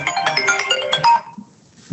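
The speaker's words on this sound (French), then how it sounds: "Excusez-moi, mon téléphone." A mobile phone ringtone plays a melodic electronic tune loudly for about a second and a half, then cuts off into near silence before a brief noise at the end.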